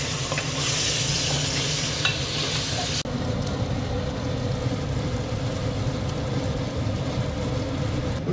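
Mutton curry sizzles steadily in a hot pan while being stirred, a close continuous frying hiss with scraping movements, the brighter hiss dropping off partway through.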